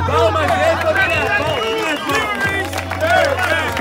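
Audience at a rap battle gives a round of applause, dense clapping and crowd hubbub throughout, with a host's voice talking over it.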